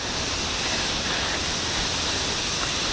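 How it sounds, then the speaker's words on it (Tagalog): Patal Falls roaring as a continuous, loud, broadband rush of falling water, steady and close with no pauses. "Bagsak ng tubig. Lalong lumalakas."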